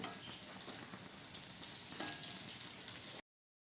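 Onions hitting hot oil with garlic and ginger already frying, a bright crackling sizzle that holds steady for a few seconds and then cuts off abruptly, heard close with no voices.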